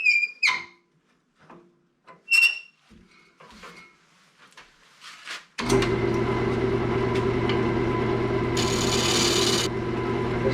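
A Sorby gouge turns wood on a lathe, a loud continuous rasping cut that starts abruptly after a few seconds of faint knocks and handling noises, with a brief brighter hiss near the end.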